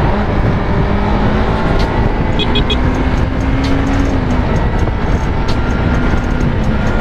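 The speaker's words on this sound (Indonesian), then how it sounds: "Wah, apalagi motor gini enak banget nyalipnya" A Yamaha YZF-R25 sport motorcycle ridden on the Trans-Sumatra highway, with a loud continuous engine drone and heavy wind rush, the engine tone rising as it overtakes.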